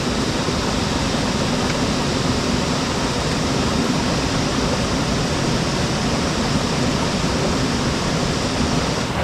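A river in a forest flows beside a tent near a house, a loud, continuous rushing wash of water that stays even and close for the whole stretch.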